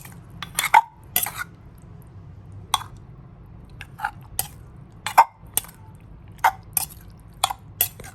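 Thai fermented fish chili paste (nam phrik pla ra) is mixed in a bowl with lime juice, giving sharp, scattered clicks and clinks of utensil on bowl, close and dry, with quiet gaps between them.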